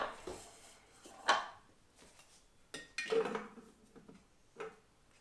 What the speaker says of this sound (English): Right, then we're going to put the butterfly whisk in.